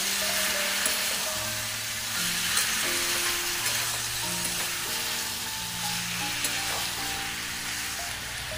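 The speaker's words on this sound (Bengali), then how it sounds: "এখানে আমি অল্প একটু জল দিয়ে কষিয়ে নিচ্ছি" Spices sizzling and frying in a pan with a little water, a steady close hiss with occasional stirring scrapes throughout, for a jackfruit curry; no voices.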